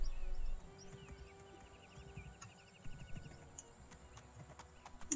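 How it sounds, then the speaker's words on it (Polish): A horse gallops across open country in the fantasy video game Two Worlds, its hoofbeats forming a steady, quick clip-clop rhythm at moderate volume over a soft ambient game hum, with no talking. "ale masakrycznie się jeździ na tym koniu"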